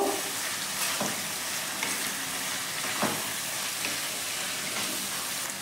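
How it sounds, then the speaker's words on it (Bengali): Onion paste frying with chicken in a spiced masala for Awadhi murgh masala, a steady close sizzle with occasional scraping stirs, no voices. "পেঁয়াজ বাটাটা এর সাথে দিয়ে ভালো করে কষবো"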